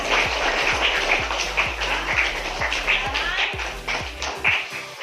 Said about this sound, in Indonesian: yuk tepuk tangan dulu untuk Ambar